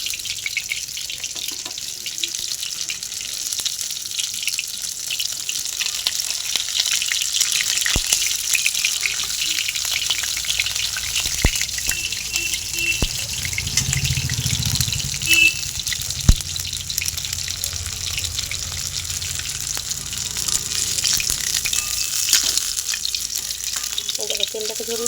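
Prawn chops sizzle steadily in hot oil while pieces are lifted out one by one, with light scraping and dripping of oil, close and continuous, no talking.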